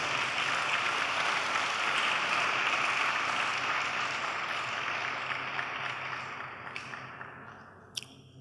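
Congregation clapping together in a church service, a dense steady wash of applause that gradually thins and fades, ending with a few scattered claps.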